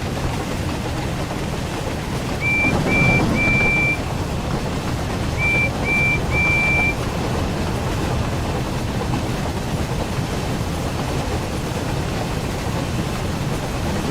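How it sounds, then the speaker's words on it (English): A steam engine whistle in the Thomas and Friends: Wonders of Sodor railway game sounds as two short bursts of three clipped toots each, mid-loud over a steady rumbling train bed with no talk. "Oh, whistle."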